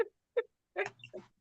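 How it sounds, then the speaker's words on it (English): A dog gives several short, sharp barks, two single yaps followed by a quicker pair, at a window, close and fairly loud with silence between. "He over there barking at the window."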